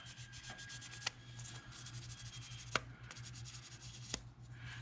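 Sandpaper rubs steadily over a glued Steyr tractor part during polishing, a soft continuous scratchy hiss with a few sharper scrapes, close up and with no talking.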